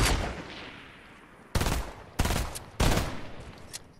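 Gunfire in the video game Fortnite: one loud shot with a long decaying echo, followed by three sharp, evenly spaced blasts that each ring out briefly.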